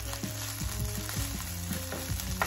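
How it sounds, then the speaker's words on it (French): Shrimp frying in a pan for curry fried rice, a close crackling sizzle with a low steady hum and a few light scrapes of stirring, no voices. "En attendant que je suis en train de frire notre crevette"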